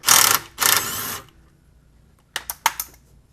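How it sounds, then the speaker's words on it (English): A ratchet works a wheel speed sensor bolt on a 2002–06 MINI Cooper during trailing arm replacement, with two longer broad bursts of ratcheting followed by three short sharp clicks, close and fairly loud with no talking. "Let's get this wheel speed sensor bolt off."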